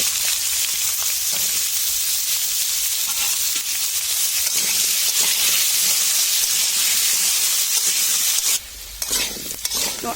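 Potatoes hit hot oil already seasoned with fried cumin, giving a loud, continuous sizzle with scraping stirs throughout that dips briefly near the end before resuming.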